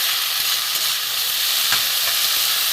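Vegetable peels fry in a pan, a loud, even hissing sizzle filling the whole stretch with a couple of faint stirring scrapes, close up and without voices.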